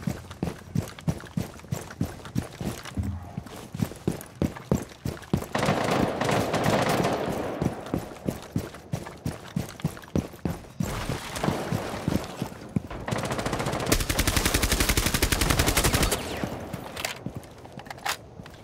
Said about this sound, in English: Someone's shooting out of this window.